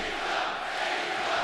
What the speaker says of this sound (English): this crowd is so hungry and ready